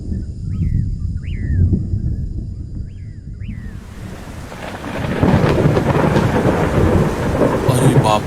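Cartoon thunder rumbles under a few high chirps in a jungle scene, then a heavy rainstorm bursts in as a loud, dense, continuous downpour with gusts of wind.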